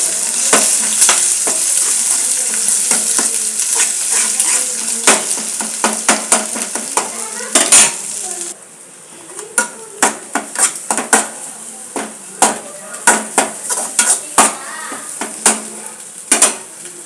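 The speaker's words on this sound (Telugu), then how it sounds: "ఎగ్గులు కూడా పగలగొట్టి వేసేస్తానండి" Cracked eggs fry in a pan for egg fried rice, a loud close sizzle with frequent sharp clinks and scrapes of a metal utensil against the pan, the sizzle dropping about halfway while the clatter continues.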